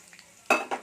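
Black mustard seeds and curry leaves hit hot oil with two brief, close bursts of sharp sizzling crackle, the first louder than the second.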